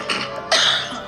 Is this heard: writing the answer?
no